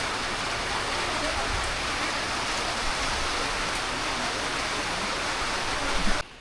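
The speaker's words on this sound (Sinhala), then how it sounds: "තාම මේ වැස්ස අඩු කරේ නැහැ." Heavy rain pours down steadily on the Sri Pada trail via Sadagalathanna road in Sri Lanka, a dense, unbroken roar that continues throughout before cutting off abruptly at the end.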